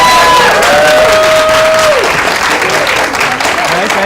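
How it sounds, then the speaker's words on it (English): A student debate showcase audience applauds the debaters in a loud, dense, steady wash of clapping that lasts throughout, with a thin sustained tone briefly audible above it and a few voices mixed in. "Let's give all of our debaters a huge round of applause."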